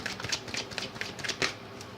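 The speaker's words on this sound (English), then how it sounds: "Quick shuffle." A quick riffle of playing cards, a rapid papery flutter in short bursts, close and fairly quiet.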